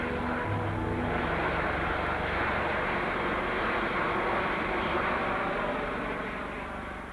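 A jet aircraft roars past in a 1954 test-flight setting, a loud, steady broadband rumble that holds throughout and eases slightly at the end.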